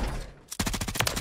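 Shotgun fire in Call of Duty Blackout, with a rapid string of loud, close blasts in a steady rhythm after a short quiet gap.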